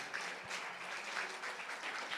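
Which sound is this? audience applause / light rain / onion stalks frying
audience applause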